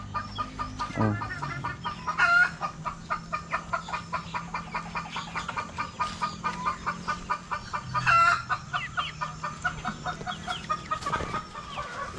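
Chickens cluck steadily in a rapid, repeated rhythm, with a couple of louder squawks standing out above the busy flock.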